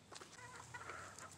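Backyard chickens cluck softly and continuously at close range, a low murmuring fowl chatter with no talking over it.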